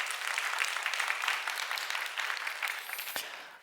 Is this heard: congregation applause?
yes